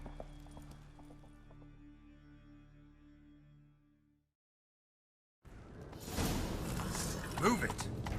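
Horse hooves in The Witcher 3 clatter as a mount sets off, first a low rumbling stretch, then a short silence, then a loud, dense burst of galloping hoofbeats close by.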